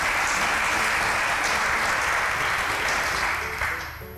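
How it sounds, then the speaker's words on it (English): A studio audience claps in a full, sustained round of applause that holds steady and then tapers off near the end. "A round of applause."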